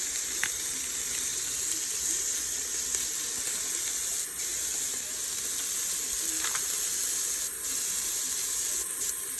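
Water pours steadily into a cooking mixture of Texas Mexican paste, a dark spicy liquid, giving a continuous sizzling, running-water wash with a few faint clinks.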